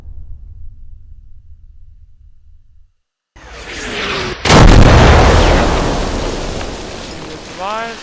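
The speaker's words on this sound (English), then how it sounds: "Here comes the cannons." Cannon fire in the video game The First Descendant: after a quiet lull, a rushing whoosh leads into a loud booming blast whose roar lingers and slowly fades, with faint whistling tones at the end.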